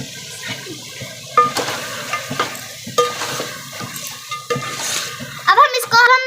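Mutton sizzles in a pot while spices go in and a spoon stirs, with scraping strokes and bursts of frying over a steady sizzle as someone talks.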